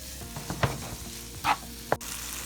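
Chicken softens in a pan over low heat, giving a faint steady sizzle with a few soft stirring knocks and scrapes, close by and without speech.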